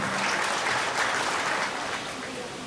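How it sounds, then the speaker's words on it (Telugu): An audience claps steadily at an event honouring a singer, a dense, even wash of applause holding at moderate loudness throughout and easing slightly toward the end. "గట్టిగా చప్పట్లు కొట్టండి."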